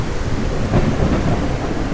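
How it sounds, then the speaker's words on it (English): Loud, continuous thunderstorm rumble with heavy rain wash in a video game, a sustained roaring crash with deep low-end rolling throughout and no speech. "they just turned it into a thunderstorm"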